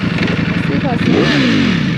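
Ducati motorcycle engine revving up close, a rapid pulsing throb that rises sharply in pitch, with a voice talking over it.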